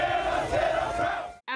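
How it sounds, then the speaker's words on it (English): College students at a CSU Rams tailgate before the Rocky Mountain Showdown football game, chanting and cheering as a loud, roaring crowd that cuts off abruptly before a brief final shout. "people seemed to be chanting for their Ram team"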